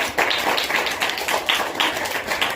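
A student claps his hands in a steady, even rhythm, a run of close, crisp claps at a moderate pace.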